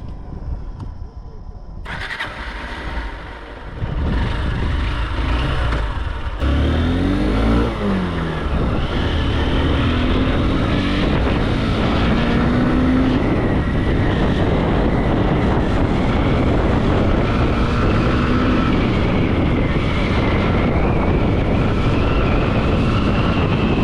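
Honda SP160 motorcycle, a 2024 model, being ridden on an open road, with a steady engine drone and rushing wind that swells and holds loud throughout after a quieter start.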